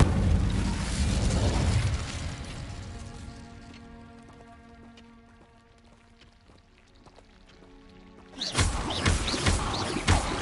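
A fiery Incendio spell erupts in Hogwarts Legacy as a loud roaring burst. It fades into quieter game music, then a second forceful blast flares near the end.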